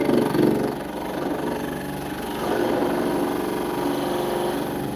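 A skew chisel cuts wood turning on a lathe, giving a continuous close motor hum with a rough scraping texture that swells and eases slightly as the cut goes on.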